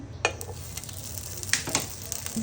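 Chicken frying in hot oil in a pan for tacos makes a steady close sizzle, with a few light clinks and stirring scrapes over it and no voices.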